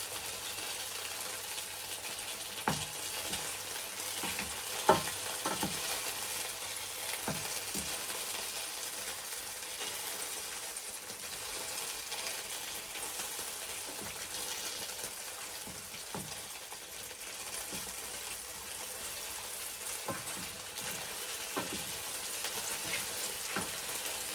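Chicken longganisa sausages frying in a pan: steady, moderately quiet sizzling throughout, with occasional light clicks and scrapes from stirring or turning.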